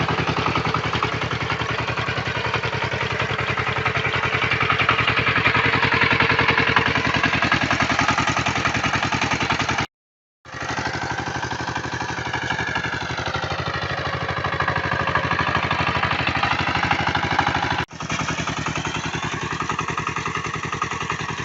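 A walk-behind tractor runs steadily while harvesting potatoes in a field, giving a continuous mid-pitched engine drone with metallic clatter from the digging attachment, briefly cut off by a couple of gaps.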